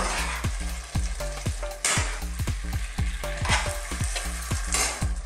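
Bitter melon sauté being mixed in a hot pan, with a steady loud sizzle and repeated scraping, clattering strokes of a utensil against the pan in an uneven rhythm, no voices.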